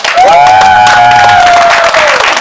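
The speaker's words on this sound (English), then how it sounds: "to the supporters in this room, clap yourself" Audience in a room at a public sector debate competition grand finale applauds, a dense wash of clapping and some cheering that stays loud and steady throughout, with a sustained tonal voice-like sound running over the first part.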